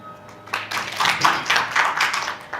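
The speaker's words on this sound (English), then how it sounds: "I believe we can give her a better clap." An audience at a public inquiry hearing in Baringo County claps in a moderate, rhythmic patter of many hands, steady and fairly close, with no talking over it.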